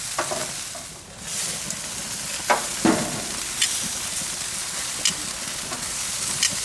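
Chicken wings sizzle and crackle steadily on a hot grill for garlic parm wings, with a few sharper knocks and clatters as pieces are turned and moved aside; no talking.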